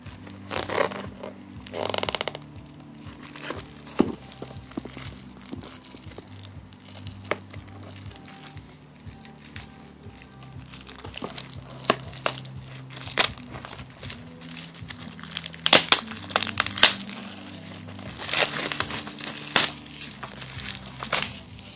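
A factory-sealed Sega Genesis Mega Bomberman game box is unwrapped up close, with crinkling and tearing plastic shrink-wrap in irregular bursts and sharp snaps over about twenty seconds, no talking.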